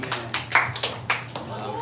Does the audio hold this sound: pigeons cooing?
no